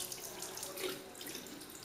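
Makeup brushes, including a kabuki brush, are rinsed under a steadily running tap, producing a continuous close splashing and gurgling of water into the sink with no talking.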